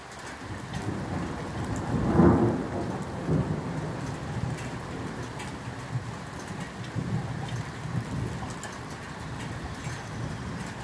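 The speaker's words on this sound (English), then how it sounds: "Here comes the rain again." Thunderstorm in Boquete, Panama: steady rain patters on surfaces while a deep thunder rumble rolls through near the start, followed by quieter distant grumbles under the rainfall.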